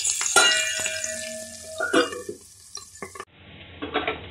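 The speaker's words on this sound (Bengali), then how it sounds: "আলুগুলো কিন্তু খুব ভালো করে লাল লাল করে ভেজে নিয়েছি" Small potatoes for alur dum fry in a pan, a close sizzle with stirring and scraping clinks of a utensil against the pan, tapering off toward the end.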